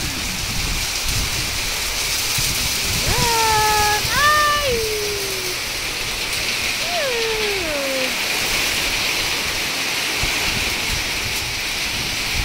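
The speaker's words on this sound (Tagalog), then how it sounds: "Ang lakas ng ulan." Heavy rain pours steadily in a dense, continuous hiss, with a couple of short exclamations and bird-like calls rising over it.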